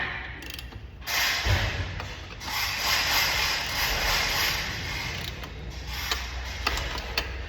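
Centering lug nuts being turned by hand onto a 2019+ Sprinter 3500 van wheel, a close metallic rubbing and ratcheting scrape with light clicks, steady and moderately loud, no talking.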